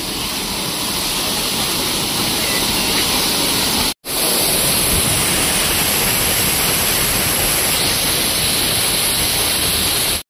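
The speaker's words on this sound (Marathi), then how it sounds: "पण हे बघा पाणी कसं डोक्यावर पडतंय बघा पटापट." A hidden waterfall at Vayngani near Vengurla pours steadily onto people, a loud, unbroken roar of falling water heard up close, with a brief dropout partway through.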